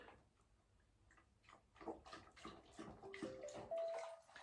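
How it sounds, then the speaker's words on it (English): A dog lapping water from a bowl nearby, a quick run of wet rhythmic laps that build and grow louder, with a faint electronic beep toward the end. "despite my dog drinking water"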